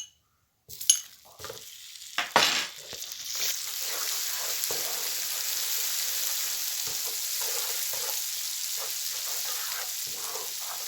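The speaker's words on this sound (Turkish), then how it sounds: "Tereyağı güzelce eriyene kadar karıştırıyoruz." Butter stirred into melted sugar for caramel sauce, with a few clinks and scrapes early on, then a steady close bubbling sizzle that carries on alone to the end.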